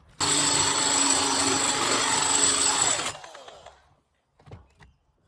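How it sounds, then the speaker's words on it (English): A corded power drill whines and grinds steadily through metal during exhaust fabrication for about three seconds, then cuts off and winds down, followed by a few faint knocks. "I'm going to change to the corded drill because this is probably going to run out of battery."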